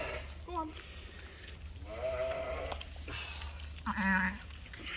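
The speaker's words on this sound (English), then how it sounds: "Lovely, 3 lovely little Zwartable lambs." Newborn Zwartbles lambs, triplets, bleating softly in a farm lambing pen, with a few short, thin cries close by, mixed with quiet human talk over a low hum.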